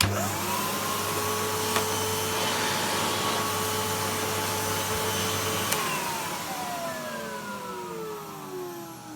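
A Numatic Henry Plus HVR200 vacuum cleaner motor with stiff bearings drones steadily with a strained, rough whine, then powers down and winds off with falling tones near the end.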